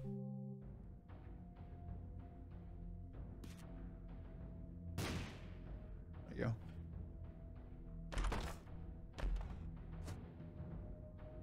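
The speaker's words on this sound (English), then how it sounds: "Still dodging explosions." Explosions in The Binding of Isaac: Repentance game come through as several short, dull booms and thuds spread across the stretch, one every second or two, sitting under a sustained musical drone.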